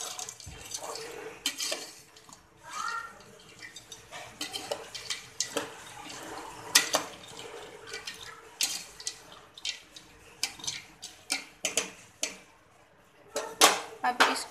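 Fried boondi being stirred and mixed into a spiced masala in a pan while making boondi salan, with scraping and clinking of the spoon against the pan in uneven bursts, close and moderately loud, without talk.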